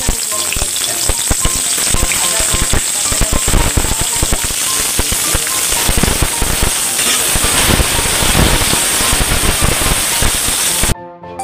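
Onions sizzling and crackling in hot oil for an anda malai curry, a loud, steady fry with dense popping spatter throughout that stops abruptly at the very end.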